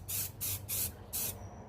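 A spray can coats a sanded metal firewall in four short hissing bursts of even length, close and fairly loud, with brief pauses between them.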